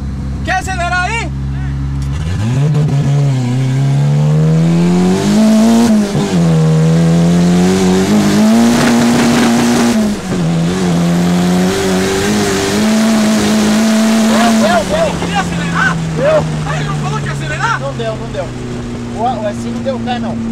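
A car engine revs hard again and again, rising and falling in pitch as it accelerates, loud and close for about fifteen seconds before settling to an idle, with voices talking in the background.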